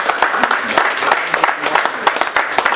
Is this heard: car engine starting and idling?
no